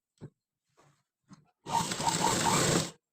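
A sewing machine stitches a sleeve potli lining in one steady burst of about a second and a half, after a few faint taps and handling noises.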